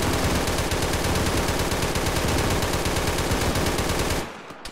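Sustained, loud machine gun fire rattles continuously in a ShackTac Arma military game session, a dense unbroken stream of rapid shots that cuts off abruptly near the end.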